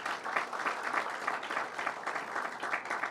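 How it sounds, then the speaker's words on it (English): An audience at a community meeting on zombie properties in Hauppauge applauds for a senator, a soft, steady wash of clapping that holds evenly at a moderate distance. "let's give a round of applause for Senator John Flanagan"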